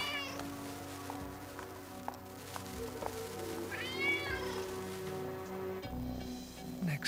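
A cat meows in an animated cartoon, one drawn-out rising cry in the middle, faint under a busy background of music and ambient sound effects.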